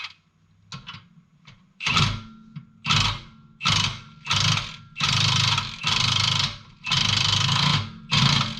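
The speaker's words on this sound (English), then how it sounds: "We're going to tighten this one next." A power tool drives a MetalCloak rear track bar bolt in repeated loud, close bursts of whirring and ratcheting, each lasting about a second, after a few short taps at the start.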